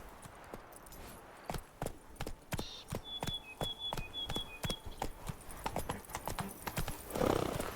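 Roach the horse from The Witcher 3 gallops in a steady run of clip-clop hoofbeats throughout, with a short whinny near the end and a few faint game tones in the background.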